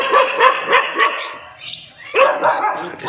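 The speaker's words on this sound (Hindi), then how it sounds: "ये पड़ोसी का कुत्ता है" A neighbour's dog, said to have been bitten, barks and yips close by in a rapid run of sharp, slightly whining barks, pauses briefly, then barks again.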